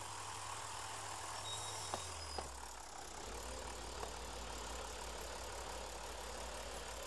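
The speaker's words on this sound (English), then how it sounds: "Why is that tractor working so hard with that little mower behind it?" A tractor engine in Farming Simulator 2013 labours steadily while pulling a small mower, a low continuous drone with a drop in pitch partway through and a couple of faint clicks, heard alone without talk.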